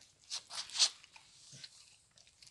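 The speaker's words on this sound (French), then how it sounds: "Ma Juju, elle a le droit d'avoir son petit bout de roulé au fromage." A dog crunches a small piece of cheese roll: a few soft, close crunching bites in quick succession, quiet and brief, followed by lighter chewing.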